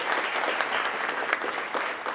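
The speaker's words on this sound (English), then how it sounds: "I'd love to give them a round of applause for all their hard work." A crowd applauding Boys and Girls Club directors at a city council meeting in Lompoc, dense continuous clapping at moderate volume, brief and even, with no voices over it.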